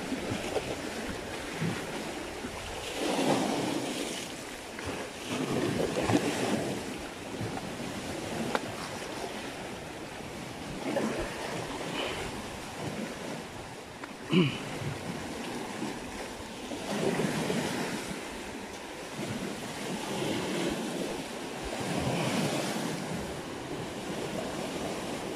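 Waves washing and breaking at sea, with wind buffeting the microphone, while fishing boats full of anglers approach, the surf rising and falling in slow rolling swells.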